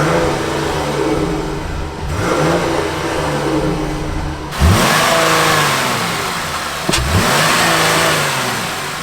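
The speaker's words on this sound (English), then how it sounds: "Let's give it a quick rev." The 3.6-liter 290-horsepower V6 of a 2021 Jeep Grand Cherokee L idles and then revs up in a few swelling bursts before settling, close and loud with no talk over it.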